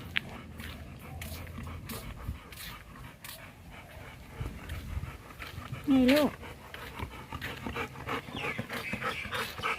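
Golden retrievers pant rhythmically after running and playing in a garden home park, their quick breaths close and continuous while someone talks over them and a brief whine rises midway.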